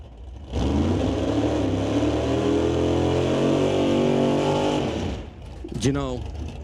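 Super Pro drag racing car at an NHRA Northwest National Open Series event, its engine roaring loud and steady for several seconds before dropping off abruptly, with a commentator talking over it.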